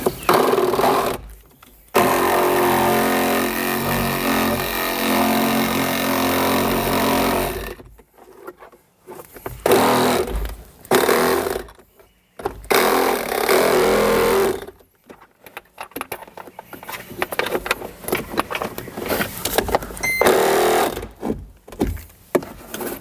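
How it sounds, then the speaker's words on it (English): A power saw cuts through the plastic overhead soundbar pod of a 2018-up Jeep Wrangler JL, heard up close in loud buzzing bursts broken by short pauses and scattered tool clatter. "you want to pull down your saw some because you don't want to cut through the top of this pod"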